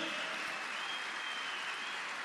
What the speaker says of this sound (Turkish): Bu alkış gerçek cumhuriyetçilere, demokratlara, Atatürkçüleredir.